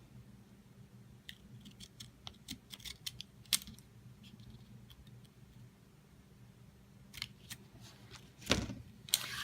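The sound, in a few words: scissors cutting a sticker sheet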